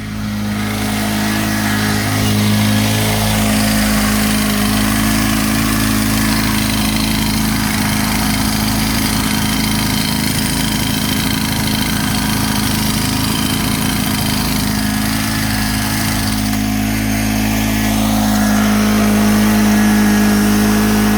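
A Honda lawn mower's small engine runs steadily and loudly throughout, a constant mid-pitched drone with a strong low hum and no talk over it.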